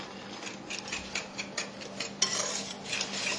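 Dry waffle ingredients being mixed in a bowl, with repeated scraping and rubbing strokes and light clinks of a utensil against the bowl, close up and uneven in rhythm.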